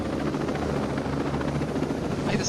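A helicopter in the video game Ghost Recon Breakpoint makes a loud, continuous rotor thrum with a rapid chopping pulse that fills the whole short stretch.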